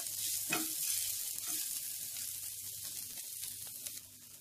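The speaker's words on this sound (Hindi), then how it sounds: "हम डाल देंगे इसमें अदरक, साथ में ये प्याज, इसे हम फ्राई कर लेते हैं इसी तरह से।" Ginger and onion fry in a hot pan with a continuous bright sizzle and hiss, steady and close, with faint stirring scrapes beneath.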